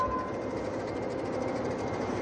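A cargo train carrying medical supplies and face-mask raw materials rolls by in Wuhan, giving a steady, loud rumble of rail noise with no speech.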